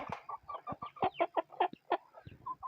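Hen clucking and pecking at feed up close in a short, rhythmic run of soft clucks and taps, after being treated for a snoring respiratory illness.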